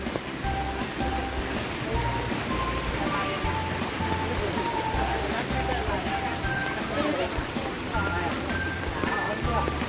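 Heavy rain pours steadily at a waterfall during a storm, a dense continuous hiss of drops on water and surfaces filling the whole stretch, with faint voices in the background.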